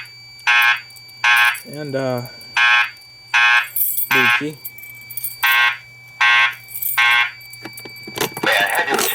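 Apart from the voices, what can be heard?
fire alarm activated from a pull station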